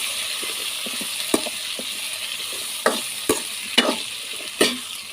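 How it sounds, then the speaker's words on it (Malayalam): Raw mango pickle with chilli is stirred in a hot pan, giving a steady sizzling hiss broken by several sharp scrapes and clacks of the spoon against the pan. There is no talking. "ഇത് നല്ലവണ്ണം ഒന്ന് ഇളക്കി കൊടുക്കണം"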